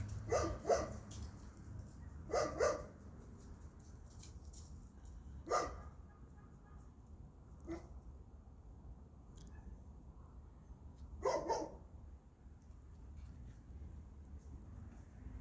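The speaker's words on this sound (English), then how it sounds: "those 2 are going right back to the side of the house to bark at whatever loose pups are out there." Two dogs bark from the side of a house at loose dogs outside, heard at night from a rooftop; short bursts of barks come in several separate clusters, fairly distant and faint over a steady low background hum.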